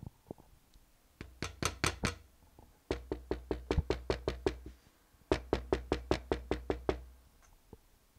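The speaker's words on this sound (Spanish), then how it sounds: "En eso tocan en la puerta." Knuckles rap on a door in three quick series of sharp, evenly spaced knocks, loud and close with short pauses between the bursts and no voices.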